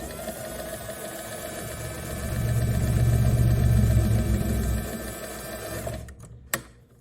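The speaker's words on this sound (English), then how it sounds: "I'm doing just a straight stitch." A sewing machine runs a straight stitch on a test swatch as one continuous, loud whirring burst. It swells and then cuts off, ending with a sharp click.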